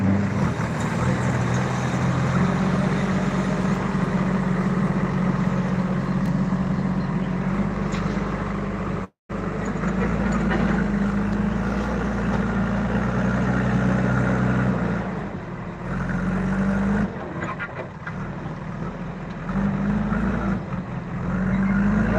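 Heavy engines rumble steadily at a road-breaking site in Devkhed, a loud, close, continuous drone with a brief dropout and shifting revs and no talking.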